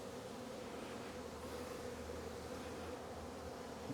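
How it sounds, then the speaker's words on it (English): Dense, steady buzzing of many honey bees swarming around an opened strong hive during an early spring inspection, close and continuous throughout. "Plenty of bees."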